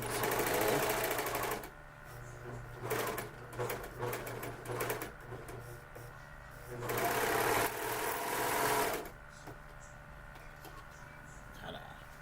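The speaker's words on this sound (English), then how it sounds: "That's the beauty of serging this, is it stretches really nicely." A serger sewing machine stitches stretchy fabric in loud rapid whirring bursts of a couple of seconds each, with quieter pauses and small handling clicks between runs.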